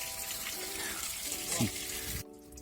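Dirty water gushes and splashes steadily out of an engine during a cooling system flush, over a low engine hum, stopping abruptly near the end.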